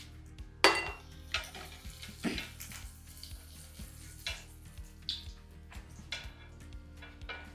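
Dried red chillies fry in hot oil after curry leaves, sizzling steadily for a crunchy flattened-rice snack while a utensil scrapes and clinks against the pan in a regular stirring rhythm, close and fairly loud, with no talking.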